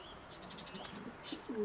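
Pigeons coo near a feeder, giving soft chirps and a low throaty coo toward the end against quiet surroundings.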